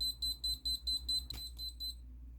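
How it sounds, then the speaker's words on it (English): A Fnirsi cordless soldering iron sounds its alarm when switched on with no tip installed: a rapid run of high, evenly spaced electronic beeps, close and clear, breaking off briefly before a few more beeps and then stopping. "If you turn it on without a tip installed, it will sound an alarm."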